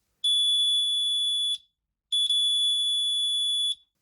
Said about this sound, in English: This is a cheap 12-volt buzzer from eBay.